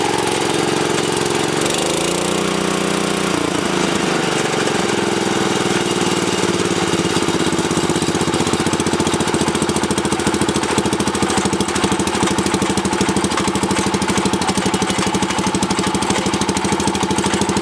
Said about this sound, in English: The belt is the one off the C125, so it's kind of rattly because it's sat a long time.